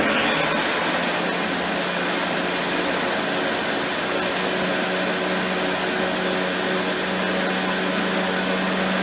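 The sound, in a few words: Vitamix blender blending berry cheesecake filling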